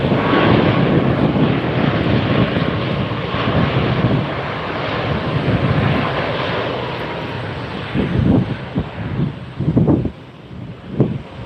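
An Airbus A319 airliner taxis at Tampa airport, a steady loud engine roar mixed with wind buffeting, followed by a few louder gusty thumps near the end.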